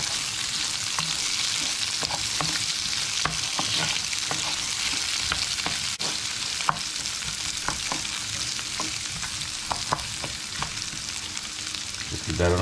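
Chopped onion sizzling in a pan with spice seeds, a steady bright fry with scattered small pops and occasional stirring clicks, close and continuous, no talking.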